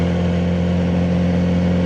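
Kawasaki Z900RS motorcycle engine running steadily in third gear around 2800 rpm at about 45 km/h, a constant low droning hum heard up close.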